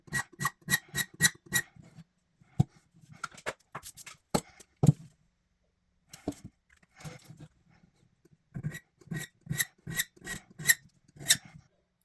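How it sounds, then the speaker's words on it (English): Metal file cutting slots into a key blank while impressioning a lock, with bursts of quick scraping strokes in rapid rhythmic runs and a few isolated rasps, close and clear with no speech. "So I'm going to file that slot as well, and I'm going to file one a little bit deeper as well."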